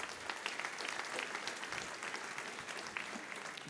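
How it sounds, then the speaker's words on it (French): An audience at a French political debate applauds its three speakers, dense steady clapping filling the room without pause. "Je vous demande donc d'applaudir nos trois intervenants"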